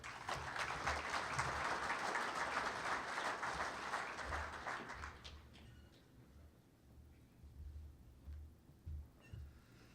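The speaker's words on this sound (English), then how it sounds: "Give him a round of applause." Loud applause from a crowd for about five seconds, then it fades out into quiet room noise with a few scattered sounds.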